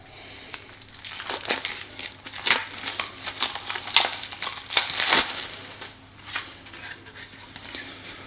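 A plastic-wrapped card package for the Tainted Grail board game is torn open by hand, giving close, loud bursts of crinkling and crushing plastic in irregular clusters, with short pauses between handfuls.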